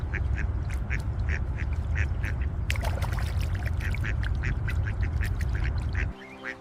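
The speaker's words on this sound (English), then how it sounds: "The ducks are cute." Ducks quacking in a park, a steady run of repeated short calls close by that stop abruptly near the end, leaving quieter ambience.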